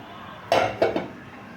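Meat is stirred in a metal cooking pot: a few sharp clinks and scrapes of a utensil against the pot in quick succession, close up and otherwise quiet.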